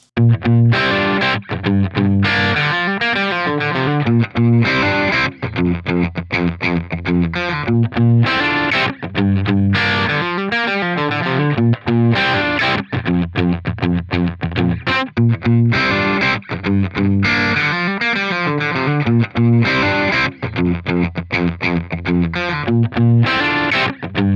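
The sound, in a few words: distorted electric guitar through amp simulators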